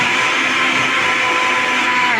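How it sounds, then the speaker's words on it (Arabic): An electric blender mixing orange cake batter whirs steadily and loudly throughout, a continuous motor drone with no pauses or talking. "بضرب كله في الخلاط اهو"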